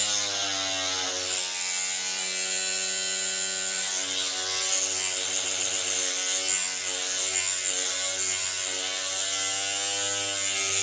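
Green Stuff World paint mixer running at full speed, a steady loud motorized whine with a buzzing, ratchet-like mechanical rattle, continuous and close throughout with no talking.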